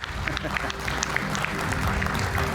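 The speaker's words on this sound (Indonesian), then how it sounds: "Kita berikan tepuk tangan Bung Fredrik Yunadi." Studio audience on an Indonesian talk show claps for a guest, a dense, loud wash of applause beneath music and a voice.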